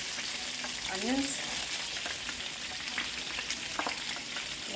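Bite-sized sausage pieces and a chopped onion fry in a pan, giving a constant close sizzle with a few faint spatters and no talking.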